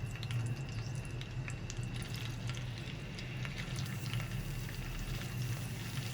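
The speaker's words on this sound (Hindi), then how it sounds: "ये मेरे पास बीफ कलेजी है 3 पाव, ये डालेंगे थोड़ी थोड़ी करके।" Beef liver dropped a little at a time into hot ghee on a tawa, giving a steady dense sizzle with crackling, bubbling spatter that holds evenly throughout, no voices.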